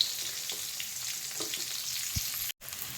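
Onion fries in a pan with garlic and red chilies, a quiet, even crackling sizzle with faint stirring scrapes, close by with no talk.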